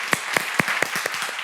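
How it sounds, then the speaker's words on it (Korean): A church congregation at a Korean men's worship service claps in a quick, uneven burst of several sharp claps that soon fade out. "예, 박수 한번 쳐주시죠."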